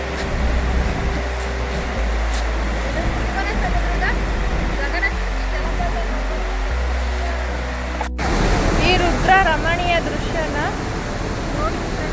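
Gaganachukki waterfall on the Shimsha river at Shivanasamudra roars as a steady, broad wash of falling water throughout, with voices talking over it in the latter part.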